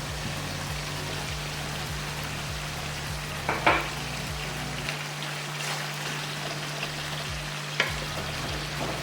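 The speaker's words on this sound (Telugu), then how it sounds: "పచ్చివాసన పోయేంత వరకు ఇలాగ ఈ ఆయిల్లోనే ఇది ఫ్రై అవుతుంది" Tomato paste fries in oil for a country chicken curry, a moderate, even sizzle and crackle with a few clinks of a spoon against the pan and a low steady hum behind it.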